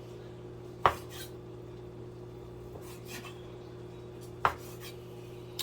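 A knife cutting sausage into pieces on a board: two distinct sharp knocks a few seconds apart and a faint third, with soft scraping between them over a low steady hum, close by, without speech.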